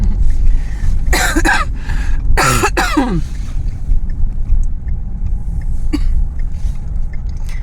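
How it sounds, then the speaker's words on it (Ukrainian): A few harsh coughs in two quick bursts, close and loud, followed by quiet background rumble. "починаю вже кашляти"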